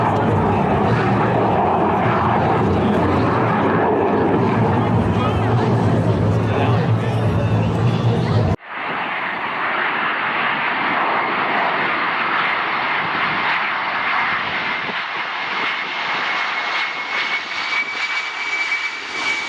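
Blue Angels jets roar loudly overhead in a continuous engine blast, then the noise shifts to a thinner, rising whine as an aircraft passes.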